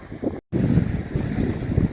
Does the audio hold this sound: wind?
yes